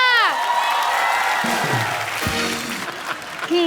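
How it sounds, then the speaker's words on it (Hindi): Loud studio audience applause with cheering on a comedy show set, sustained clapping and whoops filling the space throughout. "इन दोनों के लिए जोरदार तालियां।"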